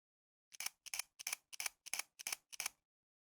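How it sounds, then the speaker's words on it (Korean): A Nikon Z fc mirrorless camera fires its shutter seven times in an even, quick rhythm, each crisp mechanical click-clack close and isolated against silence. "ZFC의 소리 한번 다시 들어보면서 비교해 볼까요?"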